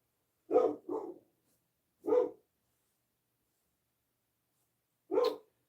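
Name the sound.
dog barking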